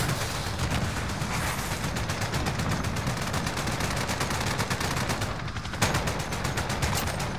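A video game shootout with rockets unleashes dense automatic gunfire, rapid bursts rattling almost continuously and close by, with a brief lull near the end before the firing resumes.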